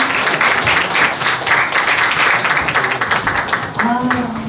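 Loud, dense applause fills a book launch hall for two performers at author Baek Yun-nam's event, sustained across the whole stretch, with a brief tone near the end.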